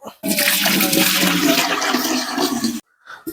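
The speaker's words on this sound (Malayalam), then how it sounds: "വെള്ളം ഒഴിച്ചു കൊടുക്കാം" A loud, steady gush of water pours into a cooking pot over a well-burning fire for mutton and papaya curry for a couple of seconds, then stops abruptly.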